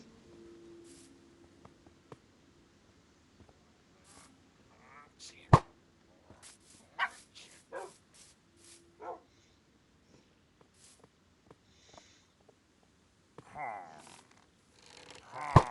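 Tamed dogs barking in the Minecraft video game, a handful of short, sharp game barks scattered among other game effects, with a couple of louder thumps and faint background sounds.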